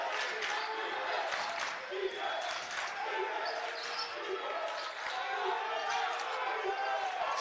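Basketball crowd noise from a college game, Alaska versus Saint Martin's, a steady roar of fans with bursts of cheering and scattered squeaks and bounces, sustained loud throughout.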